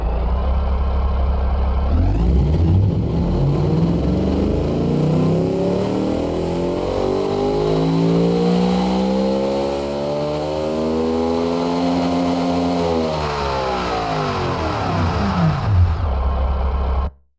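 A retro-inspired supercar engine in the Automation game revs through a long test pull, the tone climbing steadily from idle to a high wail before dropping back, loud and continuous with no talk.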